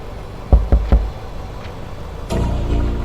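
Three sharp, loud knocks in quick succession on a door in the horror video game Night Bus, followed by a rumbling thud and low ambient noise.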